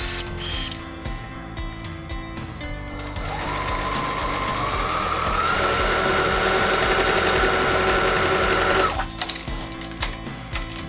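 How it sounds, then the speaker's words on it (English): Close and steady, a sewing machine runs a seam on a scrunchie, its motor whirring up into a sustained, even hum with rapid needle clatter for several seconds before stopping, preceded and followed by quieter mechanical clicks. "So let's get ready to sew this seam."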